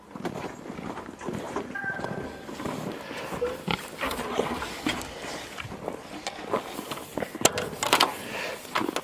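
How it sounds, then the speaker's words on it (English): A group of female pigs grunts and snuffles steadily on a farm in the morning, with close, overlapping grunts and some shuffling, trotting footsteps mixed in. "The pigs are waiting for us"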